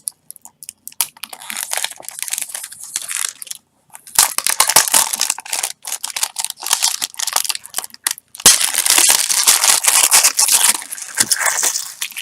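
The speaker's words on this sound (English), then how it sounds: "It's still in its plastic, so I'm going to go ahead and unwrap it right here on camera" Plastic shrink-wrap torn and crumpled off a boxed Dragon Quest VIII game for Nintendo 3DS, loud close crinkling and crackling in bursts with short pauses, growing denser toward the end.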